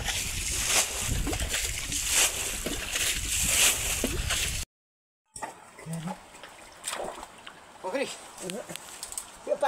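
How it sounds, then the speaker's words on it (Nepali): Water being bailed out of a stream to catch local fish: splashes and sloshing pours close by, repeated irregularly, with a short break partway through and people talking over it. "यहाँ चाहिँ पानी फाल्ने कार्यक्रम हुँदैछ है साथीहरू"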